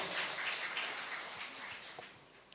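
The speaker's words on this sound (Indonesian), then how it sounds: "Boleh kita kasih aplaus tepuk tangan buat Ketua PAC," Audience applause for the newly chosen PAC chairman at an SK handover ceremony, a steady broadband patter of many hands clapping at moderate distance throughout.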